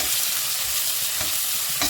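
Chopped onion hits a hot oil tempering with chillies for a village-style Karnataka upsaaru, giving a close, steady sizzle with faint stirring scrapes. No one talks.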